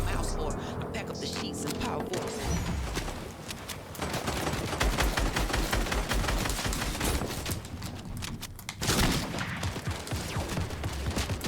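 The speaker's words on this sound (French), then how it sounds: "Oh, ça tire ici à gauche. Ça nous tire dessus." Rapid gunfire rattles in the video game Fortnite, with dense bursts of automatic shots and scattered single cracks throughout while players talk over the shooting.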